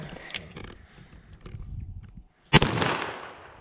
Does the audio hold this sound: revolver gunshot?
yes